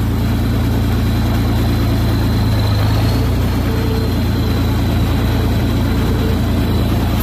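A heavy 1970 John Deere 4520 tractor engine idles loudly and steadily, a deep rumbling drone that holds an unchanging pace throughout.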